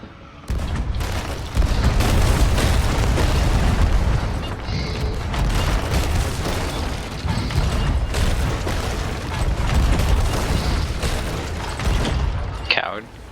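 Ship cannons firing in Sea of Thieves during a pirate tall tale, a string of dense booming blasts repeating through the clip amid sea and game noise, with voices speaking over parts of it.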